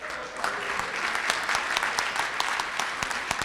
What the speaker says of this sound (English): we'll applaud Russell Smith